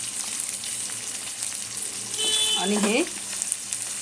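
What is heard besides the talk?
peas sautéing in a pan over medium heat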